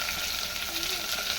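Mutton sizzles and fries steadily in a hot pan with a bright, even crackle and no break, close by and moderately loud.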